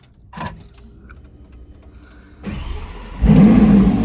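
A 2021 Lamborghini Aventador SVJ V12 engine starts up and revs, growling louder in bursts and rising to a roaring, sustained rev at close range.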